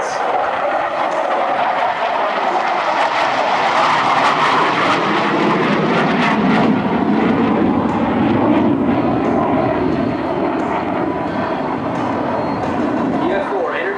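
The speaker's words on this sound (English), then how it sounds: "Please direct your attention now to the right for the F-4 dedication pass." A QF-4E Phantom jet making a flyby at an air show, a loud sustained jet roar that swells and lingers across the whole stretch, with a public-address voice talking over it.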